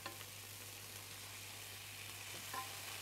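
Garlic fries in ghee with coriander and a splash of vinegar, making a soft, steady sizzle close by with no talk.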